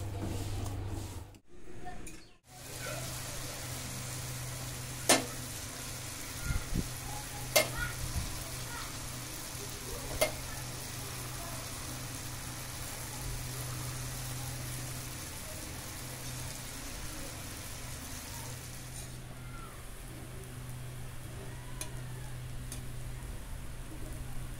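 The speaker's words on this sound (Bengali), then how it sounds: "খুব সুন্দর করে বড়া কটা ভেজে নিয়েছি" Palm fruit fritters (taler bora) deep fry in hot oil with a steady, dense sizzle. The sound runs continuously at close range, with a brief dip near the start and a few faint clinks.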